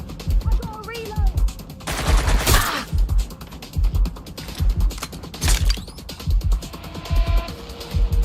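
Gunfire in the video game Watch Dogs Legion: loud bursts of rapid shots and mechanical clacks repeat in a steady pulsing rhythm, with brighter blasts at intervals and someone shouting over them.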